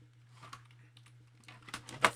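Key presses on a TI-Nspire graphing calculator's keypad, a few soft irregular clicks building to a sharper cluster near the end, close by over a steady low electrical hum.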